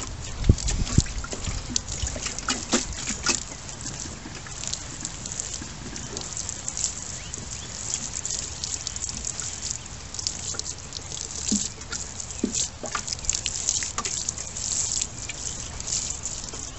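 Rainwater spritzed over freshly planted radish seeds in a backyard garden, a steady patter of droplets hitting soil with scattered louder splashes, close and continuous for the whole stretch.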